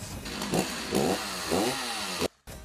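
A Bell & Howell Tac-Shaver electric shaver trims body hair, its motor buzzing loudly and steadily, the pitch bending in repeated strokes as it meets resistance before cutting off abruptly near the end.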